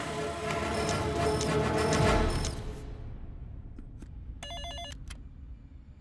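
Telephone ringing in a Hindi-dubbed action movie scene as an outgoing call is placed, a loud repeated electronic ring in bursts over a dense background score, then quieter tones and a short ringback burst near the end.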